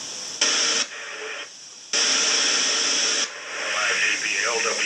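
Amateur radio stations picked up through the International Space Station come through as loud bursts of static-laden radio voice switching on and off between quieter hiss.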